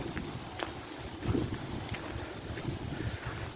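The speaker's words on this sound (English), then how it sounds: "It's really windy and cold." Cold, strong wind blows outdoors at a closed campsite, buffeting the microphone with steady low rumbling gusts and no talking.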